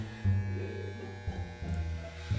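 Electric hair clippers buzz steadily and close as they shave a head down, the hum dipping and returning in short passes over about two seconds with no talk.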